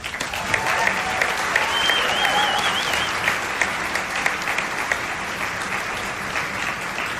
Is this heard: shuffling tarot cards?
no